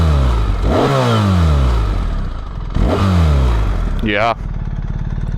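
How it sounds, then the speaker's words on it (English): BMW R1300GS motorcycle engine revved through its exhaust twice at close range, each blip rising and falling over a steady idle, with a quick sharp rev near the end and brief speech. "Let's make a sound."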